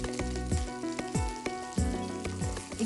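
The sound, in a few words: asafoetida sizzling in hot oil tempering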